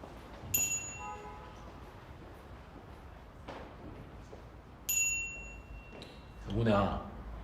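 A small bell rings twice, each a bright, clear metallic ding that rings out and fades, a few seconds apart over faint indoor background noise.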